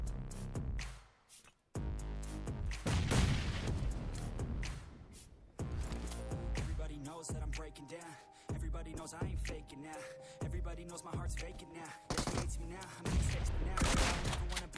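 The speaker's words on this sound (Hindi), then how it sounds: "बड़े ही प्यार से भाई साहब को 2 गोली अड़ा के ले लिया था" BGMI battle royale gunfire sounds in loud close bursts and single shots, irregular and punchy, set against game music and effects.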